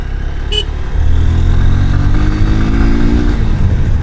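A Honda X Blade 160cc motorcycle being ridden, its engine droning loudly and close, rising in pitch as it accelerates, then settling into a steady hum.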